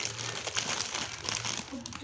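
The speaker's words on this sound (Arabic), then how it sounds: "ده الكيس كده، ده فيه 25 قطعة ميني مشكل" Plastic bag of 25 assorted mini snack packs being handled, crinkling and rustling continuously up close, with a voice talking over it.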